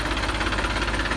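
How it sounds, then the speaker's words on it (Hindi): A tractor engine runs steadily nearby with a knocking diesel throb, brought to tow a stuck Ford EcoSport SUV on a hill drive, loud and continuous with no talk. "ट्रैक्टर बुला दिया है टो करने के लिए।"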